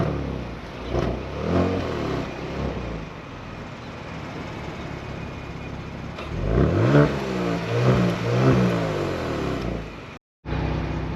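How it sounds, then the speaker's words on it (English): A 2023 Genesis G70 with the 3.3-litre twin-turbo V6 is revved while parked, giving two bursts of rising and falling engine note around a steady idle, moderately loud and close, with no talk. "before we go on a drive, I want you to hear how this car sounds"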